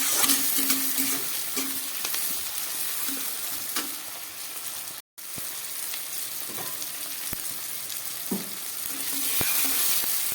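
Onions with chopped tomato frying in a pan while chicken curry is cooked, a steady close sizzle broken by repeated scrapes and taps of stirring, with a short pause midway.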